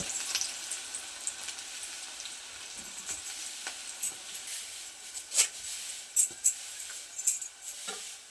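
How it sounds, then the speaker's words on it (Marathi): Onion frying in hot oil with garlic, a soft hiss broken by scattered pops and crackles that grow busier toward the end. "लसूणमध्ये कांदा फोडणीला सुरुवात झाली"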